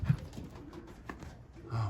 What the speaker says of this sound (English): Oh, birds, come on, come in.